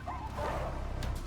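A black wolf in a video game gives a short, sharp bark once, close and clear, with a brief whooshing sound at the end.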